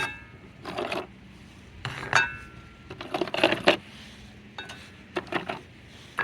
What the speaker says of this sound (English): I've placed as much ore in the Dutch oven as possible for the roast.